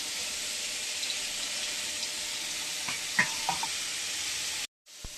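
Khoira fish frying in oil in a wok, a steady bright sizzle throughout with a few soft clinks of utensils near the end before the sound cuts off.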